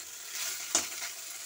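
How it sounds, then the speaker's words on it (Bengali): Small gabu chuno fish fry in a little oil in a pan, a soft steady sizzle with one brief sharper crackle midway, faint and close. "এখানে মাছগুলো অল্প তেল দিয়ে ভালো করে লাল লাল করে ভেজে নিতে হবে।"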